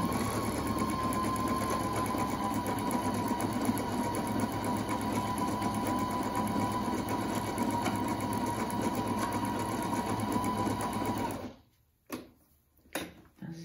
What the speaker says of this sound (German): Dann machen wir noch dreifache Zickzack und dreifache gerade Stich